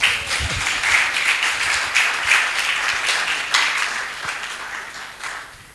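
Audience clapping at a mental health conference in Ho, Volta Region, a steady patter of many hands that holds for several seconds and slowly thins out toward the end.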